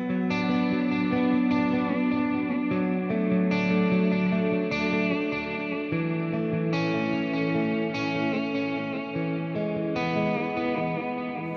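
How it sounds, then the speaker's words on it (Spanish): Electric guitar chords through a vibrato effect on a Line 6 Helix Stomp pedalboard, worship-style tone, strummed repeatedly with a wavering pitch shimmer and echo, steady and loud with no talking. "Y ahora, por último, tenemos el vibrato,"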